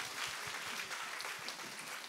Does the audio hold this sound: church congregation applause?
yes